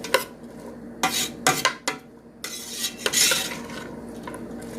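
Tofu for a BBQ tofu sub sautéing in butter in a pan, heard mostly as sharp clinks and scrapes of a utensil against the pan in several bursts, with a faint sizzle beneath.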